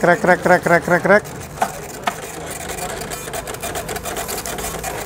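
Receipt printer at a building-supply shop checkout printing a sales receipt: about six rapid rhythmic buzzing bursts in the first second, loud and close, then fading into background shop noise and indistinct voices.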